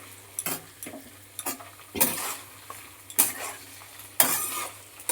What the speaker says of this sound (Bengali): এবার আমি আলুটাকে ভেজে নেব ভালো করে